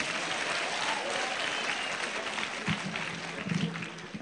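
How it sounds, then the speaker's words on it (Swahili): A crowd at a political gathering applauds the governor with sustained, steady clapping that holds at a moderate level throughout, with a few louder claps near the end. "Makofi tena ya governor."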